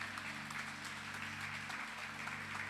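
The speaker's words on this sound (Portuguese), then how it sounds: "Aplauda o Senhor Jesus." A church congregation claps during a sermon at a finance congress service, a steady crowd applause with a low hum from the sound system underneath, no talk over it.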